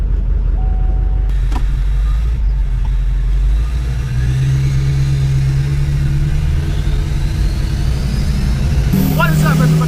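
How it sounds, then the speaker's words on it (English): A Duramax truck drives with its windows down, giving a steady, loud low engine and road rumble that runs unbroken throughout, with a brief higher squeal near the end. "driving here with the windows down for audio purposes is probably not an option"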